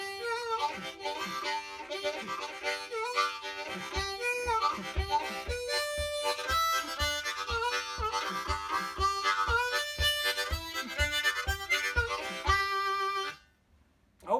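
A C harmonica played with tongue blocking runs through a lively tune of rhythmic chords and melody, steady and close for about thirteen seconds before stopping abruptly, with no talking.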